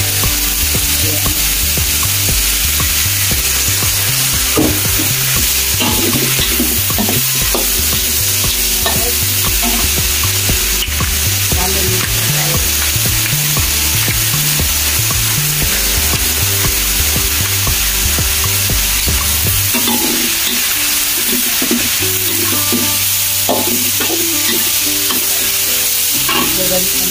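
Bihon rice noodles being stir-fried with soy sauce, a continuous loud sizzle with steady rhythmic scraping and tossing of a utensil against the pan, close and unbroken throughout.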